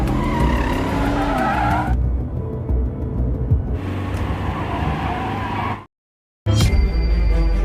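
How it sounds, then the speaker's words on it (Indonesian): A car swerving hard in a Korean action film, its tires skidding and squealing loudly with engine roar, a short sharp cutoff, then more skid noise resuming. "Min-tae menyuruh Byung-gyu membanting setir untuk mengikutinya."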